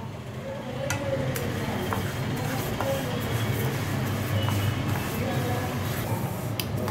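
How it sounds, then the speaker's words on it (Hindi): Flaxseeds roasting in a pan for laddu, with a low steady rattle and light sizzle as they are stirred, continuous and close, while someone talks over the cooking. "थोड़ा थोड़ा भून लेते ऐसे ना, अच्छे वाली अलसी है"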